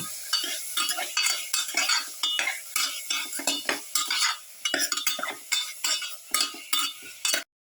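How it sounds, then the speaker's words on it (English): A utensil scrapes and clinks against a pan while beef pilaf with pepper and garlic is stirred, quick rhythmic strokes over a soft sizzle, close and alone. "Mix thoroughly."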